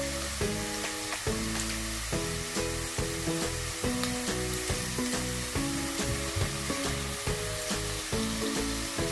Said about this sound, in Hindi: वो चिकन हम इसमें डाल के उसको थोड़ा सा फ्राई करेंगे ताकि उसका कलर ऊपर से हल्का सा ब्राउन हो जाए।